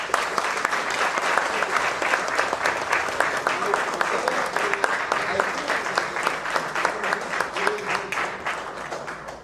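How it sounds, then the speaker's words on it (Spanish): Sustained audience applause from a crowd welcoming a writer onto the stage at a talk, dense steady clapping filling the whole stretch at even strength. "Un fuerte aplauso, por favor."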